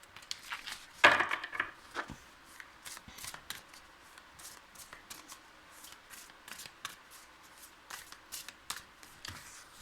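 Playing cards being handled and counted out one by one on a table, with soft papery flicks and taps in an irregular rhythm, close and quiet, with no talk.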